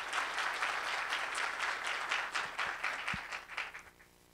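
An audience applauds at an awards launch event in Belo Horizonte, a dense sustained clapping that gradually thins and fades out toward the end.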